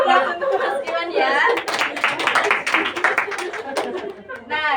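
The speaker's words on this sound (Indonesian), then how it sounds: "kita beri aplaus untuk Mas Iwan ya." A classroom group breaks into applause, clapping picking up after a moment and carrying on loudly, mixed with chatter and light laughter from the students.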